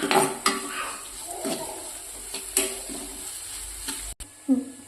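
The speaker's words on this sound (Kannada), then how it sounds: "ಗ್ಯಾಸಿಗೆ ಏನಿರ್ತೀನಿ ಉಳ್ಳಾಗಡ್ಡಿ ಹುರಿಯುವಾಗ" Onions frying on a high gas flame in a pan after mustard seeds and curry leaves go in, a steady close sizzle broken by clinking stirs of a utensil against the pan, with brief scraping accents and a short dropout near the end.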